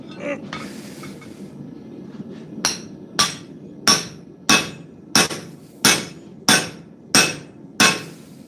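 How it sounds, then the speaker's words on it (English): A rounding hammer's round face strikes hot metal to draw out an ear, about nine loud, evenly paced ringing blows after a softer start, each clang decaying quickly. "I just use the round face of the hammer to draw out the ear."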